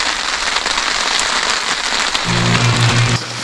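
Heavy rain pours steadily on a deep-snow winter camp beside a crackling wood fire, a dense close hiss with no break; a low steady hum joins briefly near the end.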